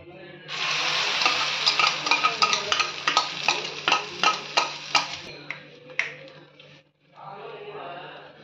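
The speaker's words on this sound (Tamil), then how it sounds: "இப்போ அடித்து வச்ச முட்டையை ஊற்றிக்கிங்க." Beaten egg poured into hot oil in a pan for a boiled egg omelette, sizzling loudly and steadily with a series of sharp stirring or utensil scrapes, then a brief pause before the sizzle resumes.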